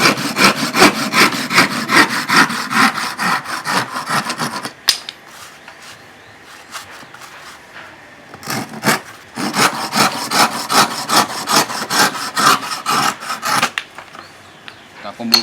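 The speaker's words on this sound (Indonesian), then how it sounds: "gergaji potong." A hand crosscut saw cutting wood in quick, steady back-and-forth strokes, with close rasping bursts, a pause of a few seconds in the middle, and then more strokes before it stops.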